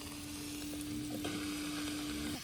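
Chicken frying in a pan with ginger, garlic and turmeric at a farmhouse Sankranti family cook-out. A steady, close hiss of sizzling oil runs throughout, with a few stirring knocks and a faint background hum.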